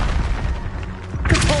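A Confringo explosive spell goes off in the Hogwarts Legacy video game, a loud booming burst near the end of a short stretch of dense battle noise and low rumbling.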